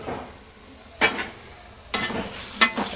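Vegetables frying in oil for veg pulao, stirred in three short scraping bursts over a faint, steady sizzle.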